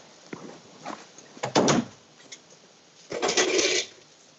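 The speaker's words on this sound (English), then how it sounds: "Hey, close the door." An office door pushed shut, two distinct thuds and rattles at moderate distance with a few lighter knocks before them, no talking.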